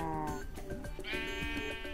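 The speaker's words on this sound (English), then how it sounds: "Sheep, come on. Come on, sheep." Sheep in the Minecraft video game bleat in quick succession, several wavering cries close and clear within two seconds.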